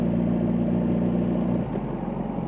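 A Suzuki GSX-R motorcycle, probably a 1000, drones steadily through a quarter-mile run, a continuous engine tone that shifts slightly near the end.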